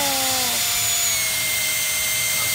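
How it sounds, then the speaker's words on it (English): Power drill boring into wood of a recycled baby crib being turned into a tiny library, a steady whine that drops in pitch as the bit bites, close and alone. "Okay, push and drill."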